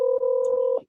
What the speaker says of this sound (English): oh, darn phone is ringing